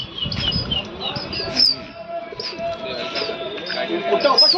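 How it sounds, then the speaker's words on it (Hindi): Pigeons coo and chirp close by during a pigeon-flying hobby session in Lucknow, India, with a few soft wing flutters and people talking in the background. "कबूतर उड़ चुके हैं दोस्तों।"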